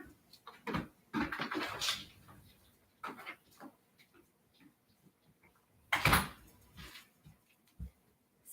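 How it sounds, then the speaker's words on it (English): A goat headbutts a door twice to knock, giving a few sharp, close thuds, loudest around the sixth second, amid scattered softer knocks and rustles. "She does a little headbutt against the door twice to go in and out."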